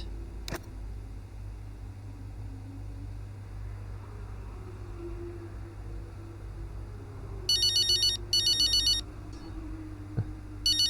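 A phone ringing in the racing game F1 25, two short bursts of electronic ringtone tones close together, loud over a low steady hum and faint background ambience.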